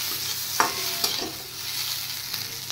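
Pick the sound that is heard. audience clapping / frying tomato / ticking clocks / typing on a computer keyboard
frying tomato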